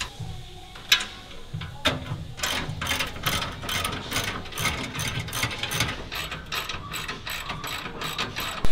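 A ratchet wrench works loose the exhaust bolts on a Manta car, with rapid close clicking in repeated bursts and a few sharp metallic knocks between strokes, with no talking.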